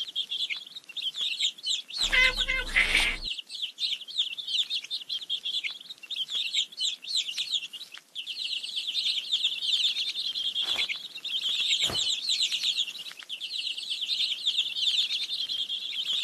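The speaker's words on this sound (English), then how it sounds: "Let's feed the hungry baby birds with some seeds." Hungry baby birds in a cartoon nest chirp in rapid, high, continuous tweets throughout, with a brief louder burst of noise near the start and a couple of short thumps later.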